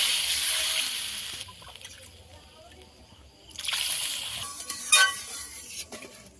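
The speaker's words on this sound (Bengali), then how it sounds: "এবার জল দিয়ে দেবো" Water poured into poppy seed paste frying in a pan throws up a sharp hissing sizzle in two bursts, softening in between, with light stirring and sloshing near the end.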